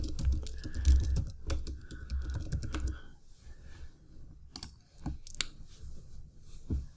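Someone types a name and email address on a computer keyboard, producing quick runs of close, crisp key clicks. A denser burst comes first, then sparser, irregular taps with short pauses between them.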